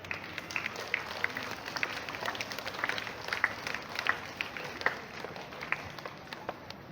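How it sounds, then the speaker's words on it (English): Scattered, moderately faint applause at a school morning assembly, a thin spread of individual claps from a small audience lasting several seconds without talk. "Please clap for them."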